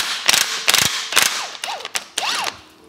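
A wrench ratchets off a strut nut on a VW Scirocco while fitting H&R 35mm lowering springs, giving five quick bursts of loud, close metallic clicking with short pauses between them and no talk.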